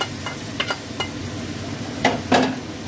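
A tempering of bay leaf and dried chili poured into a cooking pan sizzles, with a few sharp clinks and a steady frying hiss close by.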